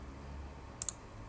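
Two quick, faint computer mouse clicks sound close together against a quiet hum while working in Solidworks.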